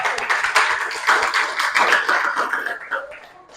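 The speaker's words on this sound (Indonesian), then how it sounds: "Tepuk tangan." An audience at a training session in Banggai gives a few seconds of scattered applause, close and lively at first, then thinning out and fading toward the end.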